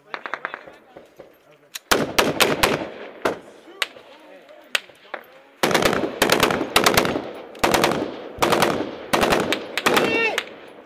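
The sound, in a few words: M240B and M249 machine guns firing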